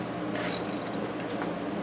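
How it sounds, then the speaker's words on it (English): A ratchet turns a reamer through a part of a Maytag 92 engine during restoration, giving a steady close mechanical grinding with faint, rapid clicking under it. "And I got it on a ratchet here."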